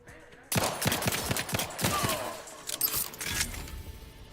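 Gunfire in The Outer Worlds 2: rapid close shots fired in quick succession, then scattered bursts and crackling impacts over a steady background hum, with no speech.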